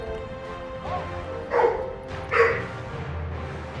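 A couple of short dog barks or yips ring out over a steady background hum, spaced about a second apart, moderately close.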